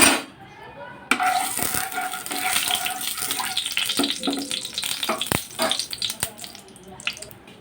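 Dry red chilli and nigella seeds fry in hot mustard oil in a kadai, giving a steady sizzle with sharp pops and scraping stirs throughout.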